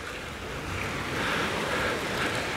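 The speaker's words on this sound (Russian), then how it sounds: "Южный ветерок, друзья," Steady southern wind gusting by the sea at Golubitskaya in October, with a broad rushing roar and surf washing beneath it, loud and continuous without any voices.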